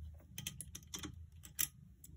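Small mechanical clicks and light rattles from removing the bobbin of an old sewing machine, a quick irregular series of close, fairly quiet taps with one sharper click near the end.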